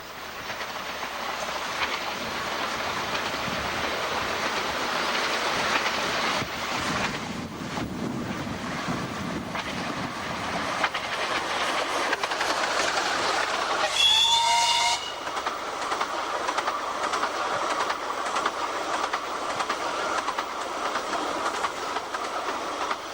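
Black Prince steam locomotive hurries through Buxton station on a narrow-gauge line, a steady rumble of wheels and carriages with wind buffeting the microphone and a short whistle blast midway, passing close by without talk.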